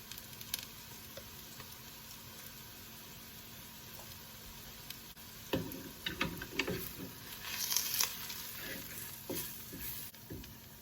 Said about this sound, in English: Just make sure all the spices are well roasted in the oil, just for about a minute.